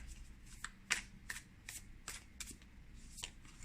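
Flower of Life oracle cards being shuffled by hand, a quiet run of soft riffling snaps and flicks at an uneven pace, close and alone without speech.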